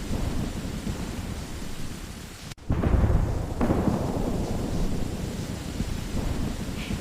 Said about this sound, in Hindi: रात भर भरी बारिश होती है।